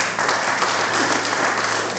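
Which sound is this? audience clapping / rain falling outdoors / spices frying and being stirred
audience clapping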